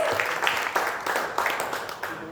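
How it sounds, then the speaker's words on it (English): An audience claps for three cricketers, a lively burst of many hands close by that swells in irregular waves and carries on throughout. "can we have one round of applause for all the 3 cricketers over here, please?"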